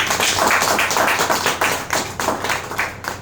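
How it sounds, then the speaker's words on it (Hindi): An audience claps loudly for a few seconds at a gathering, dense rhythmic applause that gradually thins out. "तो एक बार अपने लिए जोरदार ताली।"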